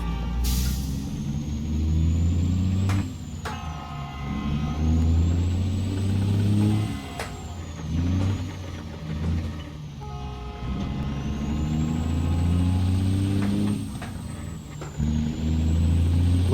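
A truck engine paired with a 13-speed transmission in American Truck Simulator pulls away, revs rising and dropping across repeated gear changes, a steady close drone with brief breaks between shifts and no talk.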